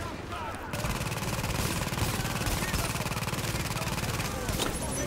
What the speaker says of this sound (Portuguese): O negócio é metralhar os caras que estão ali do outro lado